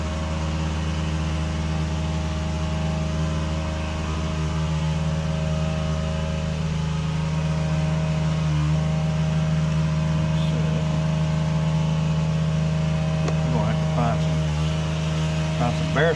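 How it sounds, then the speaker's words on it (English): A neighbor's leaf blower drones steadily for the whole stretch, a constant mid-pitched engine tone that stays loud and unbroken, with some faint chirps near the end. "hear my neighbor making a god dang racket with his blower again"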